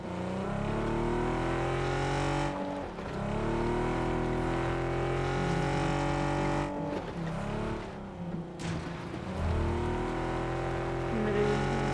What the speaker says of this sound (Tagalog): Narinig yung sasakyan sa kaliwa.